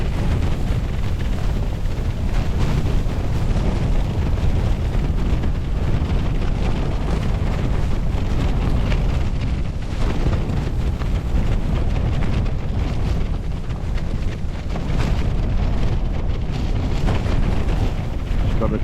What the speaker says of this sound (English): And that wind.